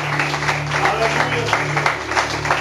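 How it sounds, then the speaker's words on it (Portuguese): A church congregation applauds during a Portuguese-language sermon, dense steady clapping over a low sustained hum, with speech mixed in. "Palmas para o Senhor Jesus."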